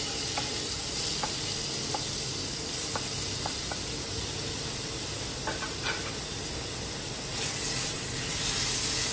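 Chicken mince frying in about a tablespoon of oil in a pan, with a steady hissing sizzle and occasional light ticks of stirring, close and sustained, no one speaking.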